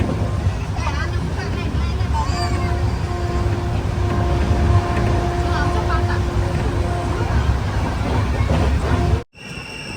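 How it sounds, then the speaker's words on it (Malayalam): An Intercity Express between Ahmedabad and Jamnagar runs at about 110 km/h with a steady, loud rumble and rattle of carriages, faint whining tones and background babble, ending in an abrupt cut. "ട്രെയിൻ ഇപ്പം 110 km/h തന്നെയാണ് പോയിക്കൊണ്ടിരിക്കുന്നത്."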